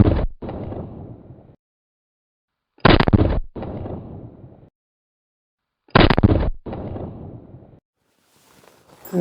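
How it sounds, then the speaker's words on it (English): Three loud, sharp gunshots from a single action Army race gun, evenly spaced about three seconds apart outdoors, each followed by a rolling echo that fades before the next shot. "Let's put 3 bullets on that Ace of Hearts down there"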